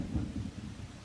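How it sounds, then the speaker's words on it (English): Heavy rain pours steadily beneath a deep, rolling rumble of thunder, a dense low roar that swells and fades slightly over a brief moment with no voices. "The rain is really heavy."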